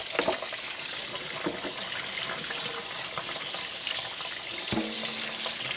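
Tap water runs steadily over canned beans being rinsed at a kitchen sink, a continuous close hiss with a few small clunks, no talking.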